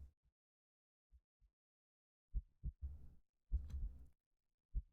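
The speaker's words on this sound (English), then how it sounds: "You feel like you can hear your heartbeat." A heartbeat in the video game Do Not Take Cat Home: soft, low thumps in uneven pairs, some longer muffled throbs in between, set against near silence.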